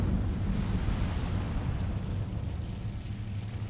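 The Incendio fire spell goes off in Hogwarts Legacy as a sustained, loud, roaring whoosh of flame with a deep rumbling body, steady throughout and slowly easing off, with no voices over it.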